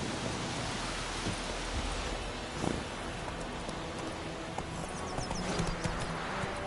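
Hoofbeats of Roach, a horse in The Witcher 3, clip-clopping in a steady galloping rhythm over a constant hiss of wind or rain, moderately close, with no voices.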